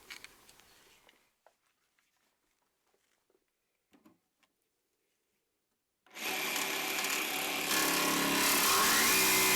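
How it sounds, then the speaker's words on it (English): After several seconds of near silence with faint knocks, a jigsaw starts abruptly and runs steadily, buzzing harshly as it cuts out an opening in an avionics tower panel. "When drilling the larger holes and jigsawing out the opening"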